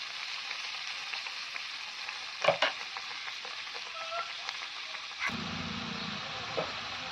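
Spices frying in a pan as turmeric powder and a little water go in, a continuous close sizzle with a couple of clinks and stirring scrapes, the hiss dropping lower near the end.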